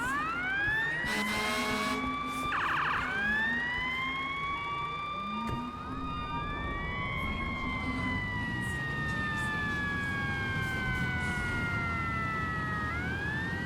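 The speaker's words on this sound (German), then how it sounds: "halt das Hupen auf, weil es brutal laut ist" A fire engine in the firefighting game FF Simulator IGNITE wails its siren in long sweeping rises and falls, with a brief blast of the horn early on, loud and continuous throughout.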